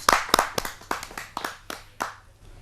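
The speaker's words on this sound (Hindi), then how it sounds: "आपकी एक जोरदार ताली।" Small audience at a Hindi poetry recital clapping for a poet, a sparse run of about ten distinct, fairly close hand claps that trail off.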